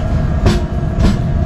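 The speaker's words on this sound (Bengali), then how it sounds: "ট্রেন কটক ছাড়লো।" The Howrah Puri Superfast Express pulls out of Cuttack, a loud, steady rumble of rolling wheels and carriages with two brief rattling clacks over the continuous roar.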